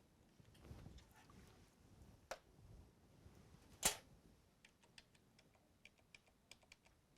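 Username and password are typed on a computer keyboard as soft, scattered keystroke clicks, faint and irregular, with one sharper tap midway and a quicker run of light taps toward the end.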